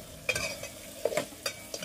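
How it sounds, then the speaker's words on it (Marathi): Red chili powder and turmeric frying in a little oil in a kadhai, heard as a soft sizzle broken by several quick scraping stirs of a spoon against the pan, close and fairly quiet. "आता आपल्याला व्यवस्थित तेलात भाजून घ्यायचा आहे"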